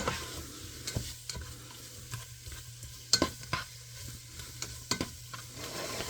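Food browns in a tablespoon or two of oil in a pan, sizzling softly throughout. Sharp crackles and stirring scrapes recur near the microphone, with no voices.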